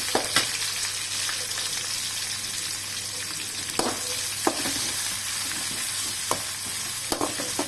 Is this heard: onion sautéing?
yes